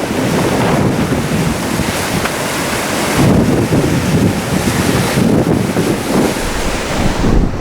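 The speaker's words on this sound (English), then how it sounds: "The River Dee comes and tumbles over these waterfalls." The River Dee tumbling over waterfalls at the Linn of Dee, a loud, continuous rushing roar of water mixed with heavy wind buffeting on the microphone, with no voices.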